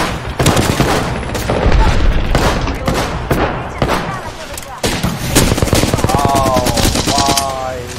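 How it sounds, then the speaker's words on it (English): Dense automatic gunfire in a shooter video game, rapid bursts and shots rattling almost continuously at loud volume, with a player's voice speaking briefly over the fight. "Taking fire."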